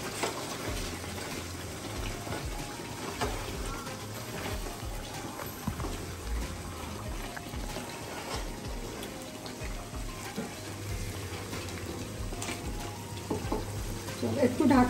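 Crab curry (kankrar kalia) being stirred in a frying pan after a spoonful of ghee goes in, a steady close sizzle and scrape of the spoon running throughout, with a louder clatter near the end.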